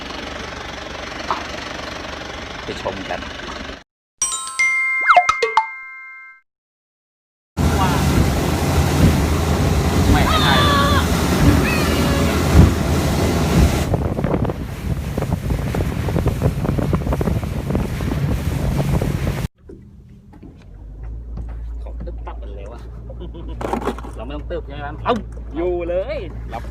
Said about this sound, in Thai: เรือมาแล้วนะครับ